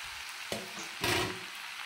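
Capsicum fries in a pan with a soft sizzle, broken by two brief bursts as pieces are stirred or added, quiet and close with no talk.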